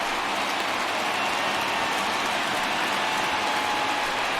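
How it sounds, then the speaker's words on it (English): Steady rain pours down on a baseball game in the video game MLB The Show 20, a continuous dense hiss with no breaks, loud and constant across the whole stretch. "we've mentioned the conditions aren't ideal with the rain coming down"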